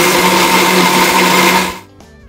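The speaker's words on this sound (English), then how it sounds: "Now all you have to do is blend this all up. I love using this small blender" A small blender whirs loudly through a garlic sauce in a steady, close buzzing roar for nearly two seconds, then cuts off sharply and leaves a brief rattle.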